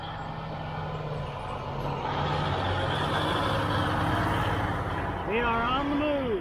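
A large military truck rumbles in on a farm, its heavy engine droning steadily and loudly, with a hiss of air brakes and warbling tones near the end.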